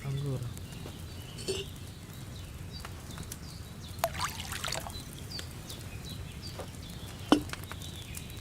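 In Kingdom Come Deliverance II, wine is poured from a pitcher into a cauldron, giving a short, soft splashing pour against steady game ambience, with occasional speech.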